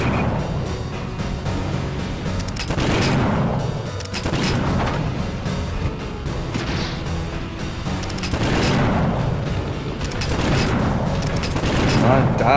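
Repeated heavy booming gunfire from a mecha in the Nintendo DS game Super Control Mecha MG, dense explosive bursts recurring every few seconds with a constant rumble.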